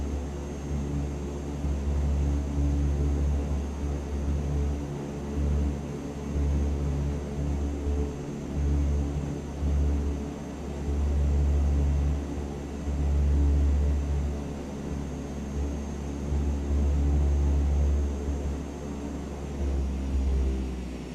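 Droning piston engines of a Super Scooper water bomber in Microsoft Flight Simulator 2024, a steady loud low hum with strong tonal harmonics and slight throbbing, heard alone throughout.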